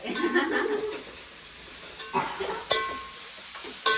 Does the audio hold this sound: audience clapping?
no